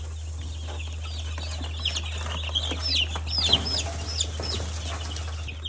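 Chickens and chicks cluck and peep softly over a constant low electrical hum, with the calls growing busier partway through.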